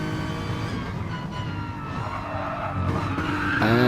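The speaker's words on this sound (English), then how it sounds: "Furtick just putting a wheel on the grass there, hitting the barrier, just about recovering" A sim-racing car in a league race runs a wheel onto the grass and clips the barrier, tyres skidding and scrubbing over a steady engine drone that swells toward the end.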